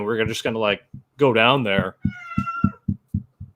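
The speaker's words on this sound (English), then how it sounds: "That was a cat." A cat meows in the background of a live automotive speed shop broadcast, its short tonal cries following people talking nearby.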